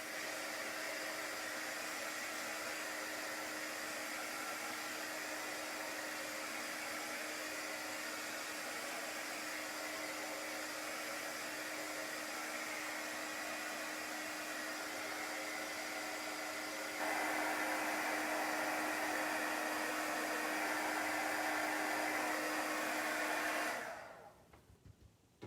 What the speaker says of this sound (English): Didn't know how my heat gun was going to affect the vinyl.